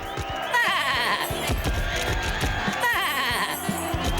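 A sheep bleats twice in wavering cries over a busy cartoon soundtrack of music and clattering effects, the calls loud and close in the mix.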